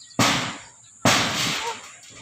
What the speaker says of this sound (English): straightening out a piece of iron by the sound of things